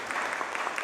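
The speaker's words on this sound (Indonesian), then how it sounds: "Tepuk tangan untuk Tuhan." A church congregation at a Sunday worship service breaks into brief applause, a short, even wash of clapping heard at moderate volume.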